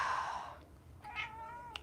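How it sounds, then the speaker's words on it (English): Pet cat meowing near a person at home, a drawn-out meow followed by a shorter, rising one, close and fairly clear over a quiet background. "Sorry, my cat's talking to me too."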